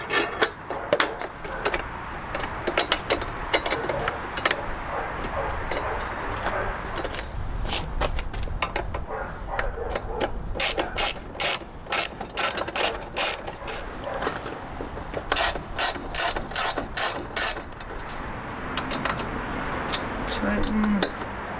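Ratchet wrench tightening bolts on an SW-Motech SLC side carrier rack fitted to a Kawasaki Versys X 300, steady clicking through most of the clip, with a faster close run near the middle and people talking throughout.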